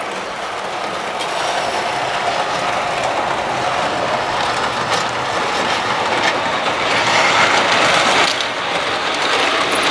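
Märklin model trains run on a home layout with a continuous, loud mechanical rattle and whirr of small motors and wheels on track, rising slightly toward the end, close by with no talking.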